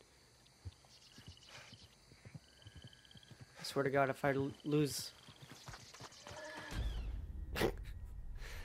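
A horse in the video game Red Dead Redemption 2 trots up and gives a loud, nearby whinny midway, with soft hoof clip-clops before it and a voice talking over parts of it.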